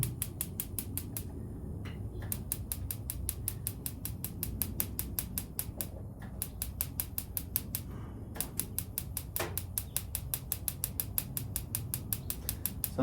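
The igniter of an Ooni Koda 2 Max gas pizza oven clicks rapidly and evenly while being lit, with a side that sometimes fails to light. Long runs of sharp ticks are broken by short pauses over a low background rumble.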